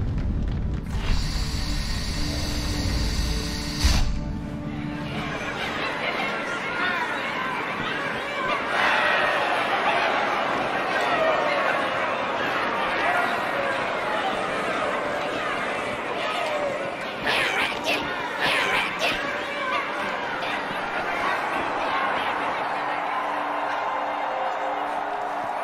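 A large crowd murmurs and chatters throughout a Halo 2 cutscene, a steady broad wash of many voices with occasional louder swells and cheers, heaviest at the start.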